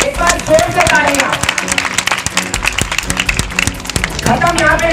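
Loud hall applause for high-scoring students at a coaching-class felicitation, a dense sustained crowd clapping with scattered sharp claps and cheering for about five seconds.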